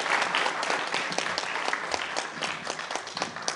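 A lecture audience claps steadily and densely at a close, even level, thanking the speaker at the end of a talk about Kurosaki, Kitakyushu.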